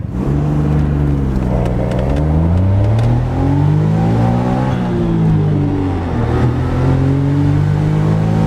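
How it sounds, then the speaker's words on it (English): A car on a short test drive accelerates hard, its engine note rising and falling through gear changes in a loud, steady drone heard from inside, with no talk. "I'm going to take this thing for a quick little drive"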